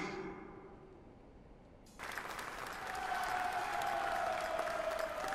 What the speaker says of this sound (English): Following Master's lead, everyone applauded. It was a great round of applause for me.